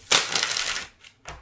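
Tarot cards shuffled by hand in one quick riffling burst of papery flutter lasting most of a second, followed by two softer card taps, close and fairly quiet.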